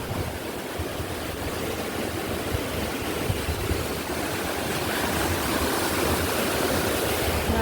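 Tidal water flowing out at ebb tide, a steady broadband rushing wash like a fast stream, even and continuous, growing slightly louder toward the end, no speech.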